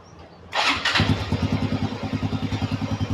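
A Honda Wave 110i motorcycle fitted with an aftermarket anti-theft system is started by remote: a short cranking burst, then the single-cylinder engine catches and settles into a steady, pulsing idle close by, with no talk.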